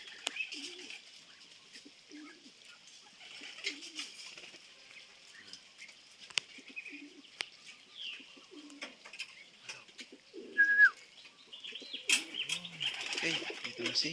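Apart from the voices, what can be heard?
pigeon, white flight hen, arriving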